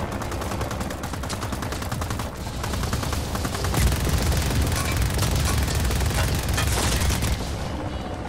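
Sustained gunfire in the video game Just Cause: dense rapid bursts of shots and booms running almost without pause, loud and busy throughout, with no talking.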